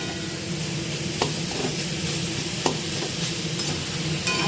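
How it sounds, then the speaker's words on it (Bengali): Salt, turmeric, Kashmiri chilli powder and cumin powder being stir-fried in a pan, making a steady close sizzle with a few sharp spatula scrapes and taps against the pan. "এর মধ্যে দিয়ে দিলাম নুন, হলুদ, সামান্য কাশ্মীরি লঙ্কার গুঁড়ো আর জিরে গুঁড়ো দিয়ে ভালো করে কষাবো।"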